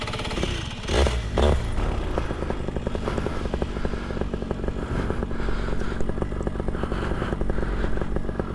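A homemade ultralight aircraft engine starts for a test flight, a loud, steady mechanical drone with rapid clattering firing that holds through the clip after a couple of heavier bursts near the start.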